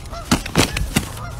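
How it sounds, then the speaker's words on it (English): Geese fighting, letting out three or four loud, harsh honks in quick succession, close by, with scuffling noise between the calls. "There's some geese beating the shit out of each other."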